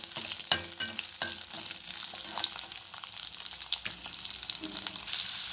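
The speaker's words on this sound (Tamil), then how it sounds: "இப்போ இதெல்லாமே நல்லா வதக்கணும்." Ginger and small shallots sautéing in oil for a spicy Andhra-style peanut chutney, a continuous close sizzle broken by sharp clattering stirs of a spoon against the pan, with no talking.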